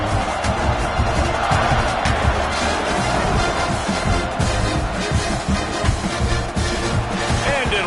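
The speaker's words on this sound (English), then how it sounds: "this crowd is buzzing after that last score" Crowd noise in an American football stadium after a score: a dense, continuous roar and buzz of many voices, with commentary speech mixed in.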